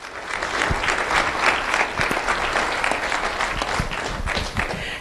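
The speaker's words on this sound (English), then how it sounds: "Let's have a round of applause for school board member Betsy Vaughn." An audience at a school recognition ceremony gives a school board member a round of applause, loud and steady clapping from a crowd, with a few heavier claps and thumps close by.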